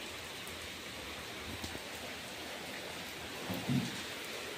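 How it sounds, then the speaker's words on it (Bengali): Continuous rain falls on a village at night, a soft, even hiss heard from indoors with a low dull thump near the end and no talking. "দেখো অনবরত বৃষ্টি হয়েই চলেছে।"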